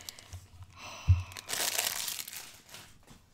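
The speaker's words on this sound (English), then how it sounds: "It's got this easier packaging to unwrap." Crinkling and tearing of light tarot deck packaging that is not shrink wrapped, close and fairly quiet, with a sharp crunch and then a longer rustling stretch.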